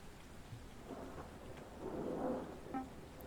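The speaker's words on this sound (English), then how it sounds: "Oh, look, it's raining outside" Rain falling outside a cave in a video game, a soft steady patter with a low distant rumble swelling midway, no voices.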